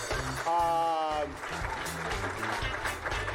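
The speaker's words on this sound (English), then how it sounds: "Make some noise and clap your hands." A convention panel audience at PAX West claps and whoops, a voice cheering over steady mid-level applause in a hall.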